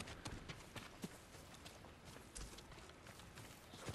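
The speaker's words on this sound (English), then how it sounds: "that's just a horse back there" In the video game Ghost of Tsushima, a horse's hooves clop in a quick, light rhythm, faint and fairly distant, over a steady background wash with no talk.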